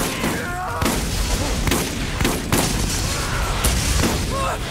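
Dense, overlapping gunfire during a Borderlands boss fight against Sledge, with sharp shots cracking every second or so over a constant loud roar of combat. A player's voice can be heard briefly under the noise.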